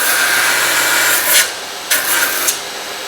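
Metal is ground on a surface grinder attachment for a 2x72 belt grinder, giving a loud, continuous close-up abrasive rasp with a few sharper surges as the workpiece is passed over the belt.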